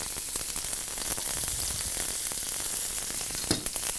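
Thinly sliced garlic and mushrooms sizzle steadily in a hot pan for a pasta cream sauce, a dense continuous crackle with a brief louder burst near the end, no talk.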